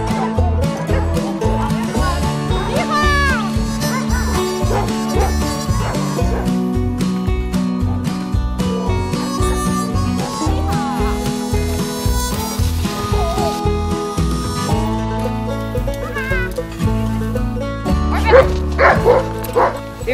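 Sled dogs bark and yip in an excited, overlapping chorus before a dog mushing run, loud and continuous with whimpers mixed in.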